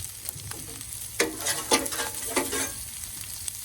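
Avocado oil sizzles and crackles on a hot Blackstone flat top griddle, with steady close frying hiss and a few sharper spatter bursts, no voices.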